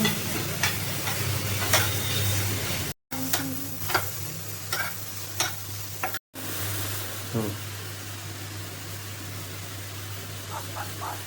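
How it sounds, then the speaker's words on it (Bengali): Tomato and onion frying in mustard oil in a pan, a steady sizzle broken by repeated scraping stirs of a spatula, with a voice talking now and then over the cooking. "পেঁয়াজটা ভালো হয়ে গেছে, এরপরে টমেটোটাকে একটুখানি ভেজে নেব"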